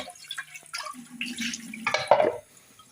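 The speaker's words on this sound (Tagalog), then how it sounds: "Tapos ito, lalagyan natin ng tubig." Water splashes and gurgles into a pot of legumes in short bursts, close and fairly loud, with some clinks of cookware.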